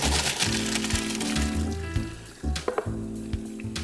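Drained pasta tipped back into a pan of cheese sauce for mac and cheese, giving a close wet squishing and sizzling rush with a few soft knocks and clatters of the pan, heard alone without talk.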